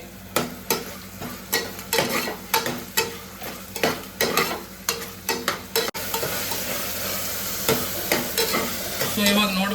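Mint leaves fry in a pan for vegetable biryani while a spoon stirs them in regular scraping strokes over a hissing sizzle; the stirring then gives way to a denser, louder continuous frying.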